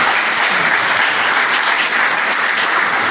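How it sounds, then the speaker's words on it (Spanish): A church congregation claps in sustained, even applause during a Spanish-language sermon, a loud, dense wash of hands filling the room without any speech. "¿Le puede dar un aplauso al Señor?"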